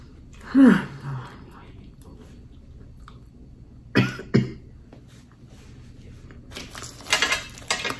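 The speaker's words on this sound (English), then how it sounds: "Y'all know why I keep coughing." Several sharp coughs, one loud burst early, then a double cough midway, with quiet rustling and a low voice in between.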